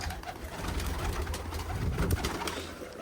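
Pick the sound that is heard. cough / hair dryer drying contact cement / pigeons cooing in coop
pigeons cooing in coop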